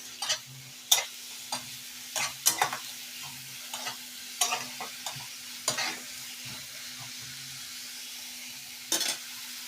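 Grated onion, ginger and garlic fry together in a pan with a steady low sizzle, broken by repeated sharp scrapes and knocks of a spoon stirring against the pan, close and clear with no talking.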